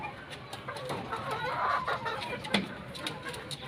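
A Golden Boy Sweater gamefowl rooster from a straight Sweater bloodline clucks in short, scattered bursts close by, with one sharper call partway through over a busy farmyard background.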